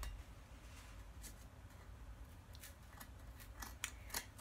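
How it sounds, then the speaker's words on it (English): Scissors snipping through the packaging of a newly delivered Hydro Flask, a string of sharp, faint cuts that grow denser toward the end over a quiet room hum, with no talking. "So I really don't want to cut this, but I'm gonna have to."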